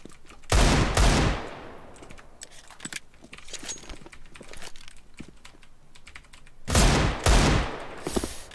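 Gunfire in the CS:GO video game: two loud bursts of rapid automatic fire near the start and end, separated by quieter clicks and keyboard tapping.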